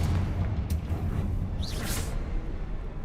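A Confringo blasting spell explosion in a Harry Potter-style video game: a short, loud rumbling boom with a swooshing burst, heard alone with no voices.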